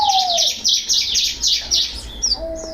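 A female mountain ciblek bird chirps in a quick series of bright, high tweets, close and clear, with a few shorter calls trailing off at the end.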